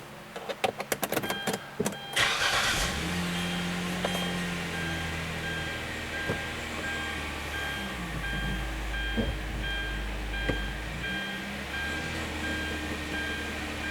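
A 2009 Hyundai Santa Fe engine is started, with a series of clicks and a short cranking burst followed by a steady idling drone and a low rumble swell, with no talking.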